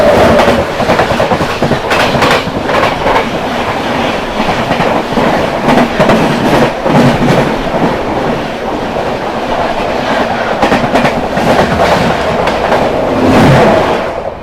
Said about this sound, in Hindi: सामने से आ रही है आनंद विहार से चलकर भागलपुर की ओर जाने वाली विक्रमशिला एक्सप्रेस